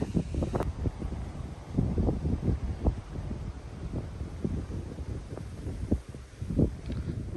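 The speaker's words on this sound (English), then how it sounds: "Beautiful morning, a little windy." Gusty wind buffets the microphone at Black Rock Summit in Shenandoah National Park, irregular low rumbling bursts rising and falling throughout, fairly faint and with no speech.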